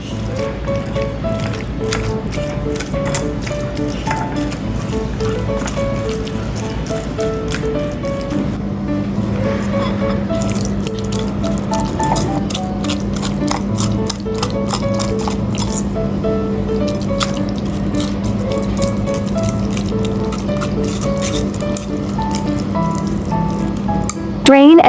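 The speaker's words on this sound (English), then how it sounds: "Pour the tofu into a sieve and crush it, letting the excess water drip off." Tofu for a tofu chocolate recipe is crushed in a sieve while the excess water drips away, giving soft close squishes and wet trickles over a low steady hum.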